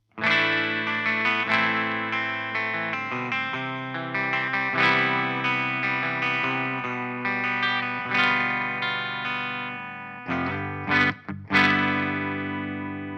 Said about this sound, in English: it's breaking up and it sounds overdriven